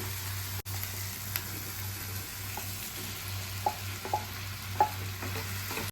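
Mushrooms fry quietly in a kadhai with a soft, steady sizzle, broken by a few light clinks and scrapes from stirring, all faint and without speech.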